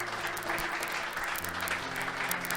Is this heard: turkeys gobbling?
no